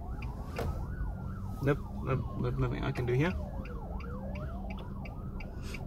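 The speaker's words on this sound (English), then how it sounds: "because I'm hearing sirens" Emergency vehicle sirens wail in rising and falling sweeps from the street while traffic rumbles, a person talking briefly over them.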